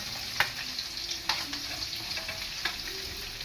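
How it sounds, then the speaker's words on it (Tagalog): Garlic and onion sautéing in hot oil for chicken asado, a steady close sizzle with a few sharp stirring scrapes of a utensil against the pan. "igigisa na natin. Bawang, sibuyas."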